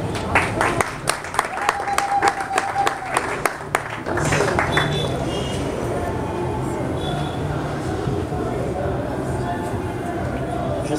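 An audience at a literary reading claps for about four seconds, with sharp individual claps close by. The clapping then stops and a steady crowd murmur with talking continues.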